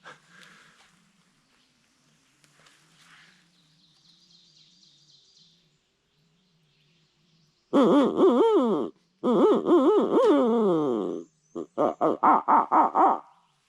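An owl hooter call blown during a West Virginia turkey hunt imitates a barred owl's eight-note hoot: a loud, close series of rhythmic hoots that rises and falls, after a faint, quiet stretch of distant background sound.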